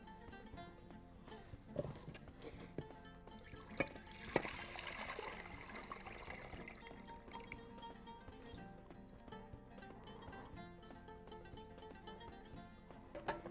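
Water poured into a cooking pot of soaked freekeh, a faint, steady trickle and splash at low level with a few small clinks from the pot.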